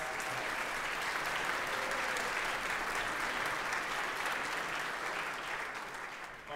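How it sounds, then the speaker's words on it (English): A concert hall audience at a university wind symphony performance applauds faculty, a sustained, even round of clapping that fades slightly at the end, heard from a distance. "I don't suppose we could have an applause"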